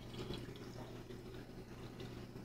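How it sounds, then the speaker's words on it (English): Bottled Dasani water pours steadily into the reservoir of a handheld portable electric coffee press, a continuous close splashing trickle over a low steady hum, with no talking. "So let's go ahead and put some Dasani in there"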